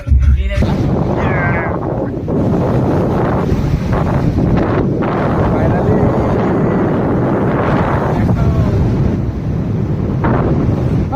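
Strong wind blowing on a cloudy day at a seaside beach at Mandarmani or Digha, roaring and buffeting the microphone loudly and steadily throughout, with voices barely heard beneath it.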